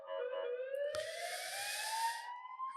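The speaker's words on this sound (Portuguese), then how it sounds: "Ambulância." An ambulance siren wails close by with a steady, rising electronic tone that sweeps upward and holds loud and continuous for about three seconds, with no voices.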